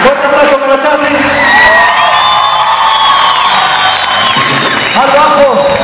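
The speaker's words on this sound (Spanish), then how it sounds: "Fuerte aplauso para Charlie." A concert crowd in Quito roars with loud cheering, whoops and applause, a sustained close wall of shouting voices and clapping that barely dips throughout.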